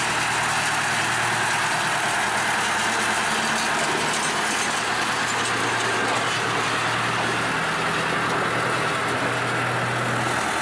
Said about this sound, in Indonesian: lokomotif D25 ini harus maju kembali ke percabangan awal